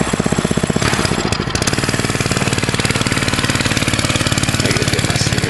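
Motorcycle engine running close by with a loud, rapid, chugging exhaust pulse, rising briefly as the throttle is blipped, then holding a steady rough idle.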